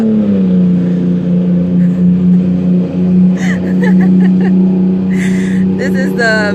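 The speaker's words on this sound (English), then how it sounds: "thank you, fire truck." Outdoors, a fire truck passes with a loud, steady engine rumble that dominates the scene while a person keeps talking over it.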